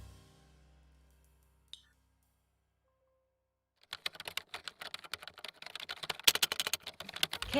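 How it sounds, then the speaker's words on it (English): Rapid typing on a computer keyboard, a dense run of crisp key clicks starting after a few seconds of near silence, close and fairly loud with no talking. "So you guys can hear the typing, alright? The typing sound?"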